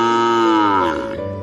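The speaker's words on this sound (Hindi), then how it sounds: "रत्ना की बात सुनकर कपिला गाय रंभाने लगी।" A cow lets out one long, loud moo nearby, its tone sliding and fading at the end, with nothing else heard.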